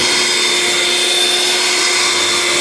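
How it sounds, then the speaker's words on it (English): An electric mixer whipping cream for homemade ice cream gives off a loud, steady motor whine with a constant high buzz and no break. "You don't stop whipping until you see it form into the whipped cream."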